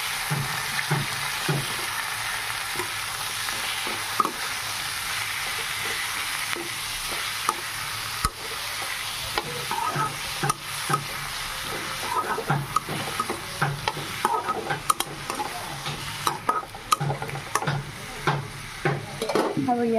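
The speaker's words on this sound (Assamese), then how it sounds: "অকণমান সময় ভাজিম।" Sliced cucumber fries with pieces of fried fish in a pan, giving a constant close sizzle broken by repeated clinks and scrapes of a utensil that grow busier toward the end.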